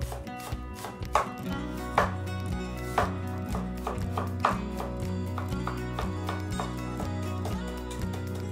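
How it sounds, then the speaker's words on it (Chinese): A knife chops scallion and ginger together on a cutting board, making rapid, steady, close thuds and taps in an even rhythm that continue throughout. "姜和葱花混在一起切碎。"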